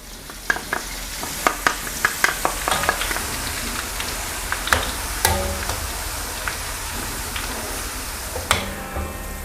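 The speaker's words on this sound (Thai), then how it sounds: "พอน้ำมันร้อนแล้วนำกระเทียมลงไปเจียวให้เหลืองกรอบ" Garlic fries golden in hot oil over medium heat, sizzling steadily, with frequent scraping and clinking from a utensil stirring the pan.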